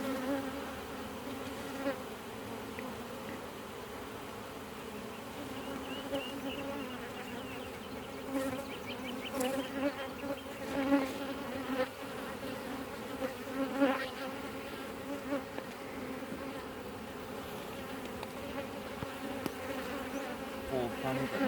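Honey bees buzz steadily throughout a hive inspection, a dense continuous hum with swelling louder passages as frames are handled, with no talk over it.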